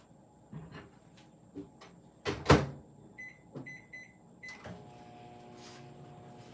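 A microwave oven is set for about 25 seconds to melt marshmallows: a series of keypad beeps and clicks, a door thud, then the low steady hum of the oven running.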